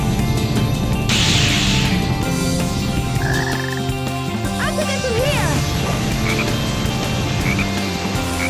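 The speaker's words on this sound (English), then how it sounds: "Detecting a frog in the vicinity." Frog croaks from the Sonic Heroes video game, loud and repeated over busy in-game music and effects, with occasional quick crashing hits mixed in.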